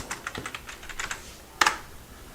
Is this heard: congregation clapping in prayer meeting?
no